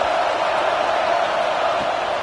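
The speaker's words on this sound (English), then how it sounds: "The crowd getting behind this defense as they try to get a stop in the red zone." Football stadium crowd at a USC versus Northwestern game roars steadily behind the defense during a red zone stand, a dense, loud, continuous wash of cheering with no breaks.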